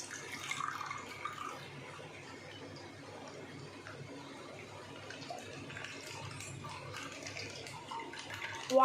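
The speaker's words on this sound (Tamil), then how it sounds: "1 லிட்டர் பால் இருக்கு, நம்ம ஊற்றிக்கலாம்" Milk, one litre, poured into a pan for making palkova: a steady, soft liquid stream running continuously for several seconds, close and moderately quiet, ending with a brief louder clatter.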